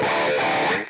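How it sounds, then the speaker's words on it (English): A heavily distorted electric guitar with a Tube Screamer pedal in front of the distortion chugs in one dense, saturated burst, thick and sustained, then trails off at the end. "Let's hear with the tube screamer."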